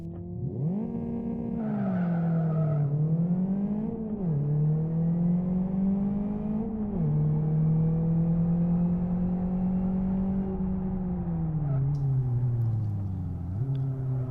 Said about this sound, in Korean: 이번 시간에는 어, 랠리 경기로 어, 주행 연습하는 것을 보여드리겠습니다